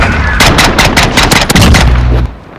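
Rapid, loud bursts of SKS rifle fire crack in a Modern Warfare match, several sharp shots tightly spaced and then trailing off near the end.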